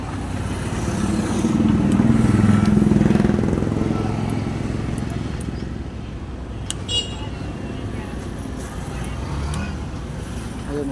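A Suzuki Gixxer 150 FI motorcycle engine starts and settles into a steady idle, its low rumble swelling early and then holding even, with a voice talking over it.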